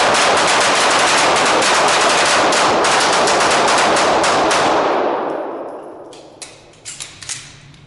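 Gunshots ring out at a shooting range in a fast, loud, continuous string of closely spaced reports. The string stops abruptly and leaves a ringing decay, followed by a few faint clicks and knocks.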